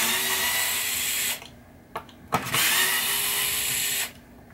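A power drill backs wood screws out of the pop bumpers on a 1973 Williams Travel Time pinball machine: a loud, high motor whine runs, stops with brief clicks, then runs again before cutting off.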